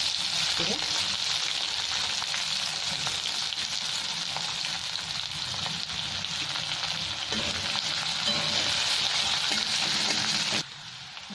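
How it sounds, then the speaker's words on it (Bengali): Sliced onion and black cumin seeds sizzling in hot oil in a pan for a Bengali fish curry, a steady dense crackle that continues throughout and drops slightly near the end, with no talk. "কালো জিরে দিয়ে দিলাম, এখানে পেঁয়াজ কেটে রেখেছি, একটা পেঁয়াজ দিয়ে দিলাম।"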